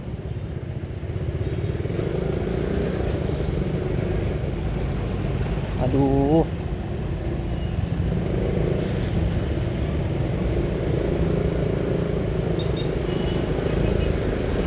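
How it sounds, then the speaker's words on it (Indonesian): Traffic stuck at a red light on a road in Bekasi, with a steady rumble of engines and motorcycles close by and a brief voice near the middle. "kalau di sini macet nih di lampu merah Pakuan itu"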